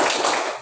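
A classroom of pupils claps in unison during the 'tepuk fokus' routine, a single short, sharp burst of many hands striking together, loud and near, with no talking.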